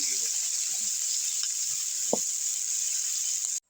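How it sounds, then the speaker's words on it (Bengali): Taro stolons sizzling in a pan with green chillies, turmeric and salt while being sautéed, a steady bright frying hiss throughout with a faint stir clink midway, no talking. "এবার কচুরগাঁটিগুলো ভালোভাবে কষিয়ে নিতে হবে।"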